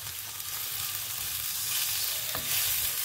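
Shallots and tomato with honey and spices sizzling in a pan, a continuous close crackling hiss with faint stirring and one brief clink.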